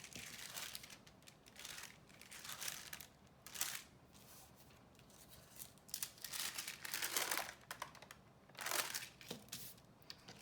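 Paper corners lifted one at a time from a traced design, with a tape strip nearby, making soft, faint crinkles and rustles in several short bursts, close and quiet with no talking.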